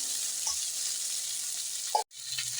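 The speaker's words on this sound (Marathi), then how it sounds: "आता छान एक मिनटं परतून घ्यायचं आहे आपल्याला कोबी लवकर शिजते" Chopped cabbage sautéing in a pan for a samosa filling gives a soft, steady sizzle at low level, with a couple of light stirring taps and a brief cut-out near the end.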